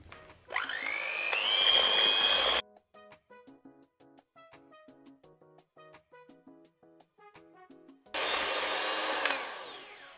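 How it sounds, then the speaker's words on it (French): An electric hand mixer whirs loudly through cannelé batter in two bursts, separated by a stretch of quieter clinks and kitchen handling. Each burst is close and steady in pitch and cuts off abruptly. "On reprend notre batteur et c'est reparti"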